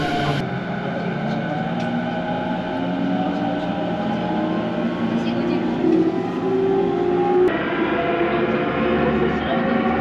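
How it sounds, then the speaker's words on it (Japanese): A Musashino Line commuter train bound for Nishi-Funabashi pulls into a station platform, a steady loud rumble and hum of the arriving train with a rising tone near the end as it slows. "武蔵野線の西船橋方面の電車がやってきましたので、こちらに乗りたいと思います。"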